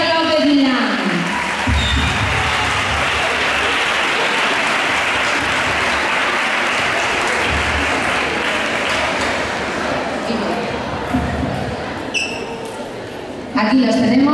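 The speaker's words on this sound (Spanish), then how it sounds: "Vamos a recibir con un fortísimo aplauso al concejal de festejos, David García, y también al alcalde de la Unión" A festival crowd at a queen and mister pageant applauds the councillor for festivities and the mayor, a loud, dense, sustained roar of clapping that fills the whole stretch, with a voice heard briefly at the start and end.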